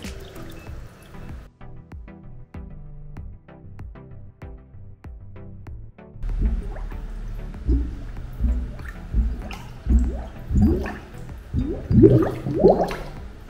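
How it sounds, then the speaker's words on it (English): Air bubbles gurgle out of a drinking glass tipped underwater, starting as sparse faint drips and swelling into louder, irregular bursts of bubbling in the second half. "If we tip the glass, the air trapped inside will rush out in the form of bubbles."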